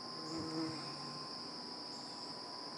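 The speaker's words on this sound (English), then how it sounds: "I got bees out here, something fierce this morning" Steady bee buzzing outdoors near a hummingbird feeder in the morning, a continuous high drone with faint shifts in pitch, fairly close and unbroken.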